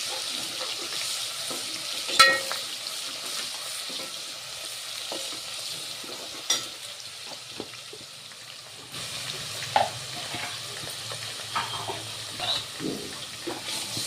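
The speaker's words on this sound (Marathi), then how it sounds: "अद्रक लसूणचा पेस्ट याला होऊ द्यायचं थोडंसं" Ginger garlic paste fries quietly in hot oil in a pan, a soft continuous sizzle with occasional scrapes and clicks of stirring.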